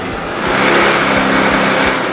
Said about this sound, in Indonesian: Tapi begitu digas, mesin akan jalan.